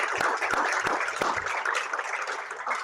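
Applause from a seminar audience at a local government psychological hazards event, dense steady clapping sustained throughout, with a few louder individual claps near the start, no voices.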